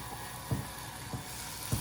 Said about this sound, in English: you're gonna put the chicken in and you hear that sizzle